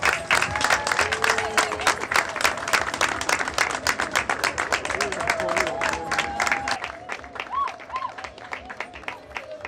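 Dense, steady applause from a large audience at a university convocation at the Catholic University Institute of Douala, with many hands clapping continuously and fading slightly toward the end, with a few voices mixed in.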